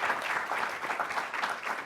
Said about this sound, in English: So quick round of applause for Sir William.